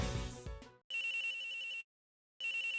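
A phone rings in the Ace Attorney Investigations 2 video game, with two bright electronic ring bursts separated by silence, after a short fading musical sting.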